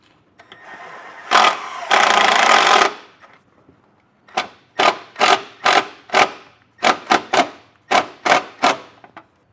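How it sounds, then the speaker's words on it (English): Power driver sinking a self-tapping screw into a 2022 Ford Edge's body metal, one long loud whirring burst followed by a dozen short, evenly spaced driver pulses, close and alone. "I'm going to attach it right here to this piece of metal using the provided self-tapping screw"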